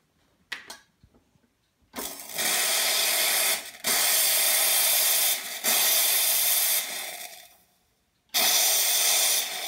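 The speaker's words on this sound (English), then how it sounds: "Okay, we're going to put it in the espresso machine." Decaf espresso brews in an espresso machine as a loud, steady pump hiss in long bursts of about two seconds each, separated by brief pauses, after a few quiet clicks at the start.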